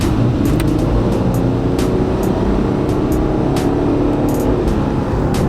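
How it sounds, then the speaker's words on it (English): A high-mileage Dodge Charger with 300,000 miles and a low fuel tank accelerates hard, its engine a loud, steady, broadband roar that stays close and continuous throughout, with no voices. "we want to hit the gas pedal down, even though it's kind of low on gas, and just see how the thrust is and how the transmission feels"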